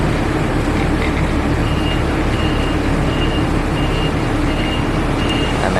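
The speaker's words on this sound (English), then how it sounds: "Oh, there goes the bus into the station." A bus pulls into a station in Taiwan, its reversing alarm beeping in an even, repeated rhythm over a loud, steady rumble of engine and street traffic.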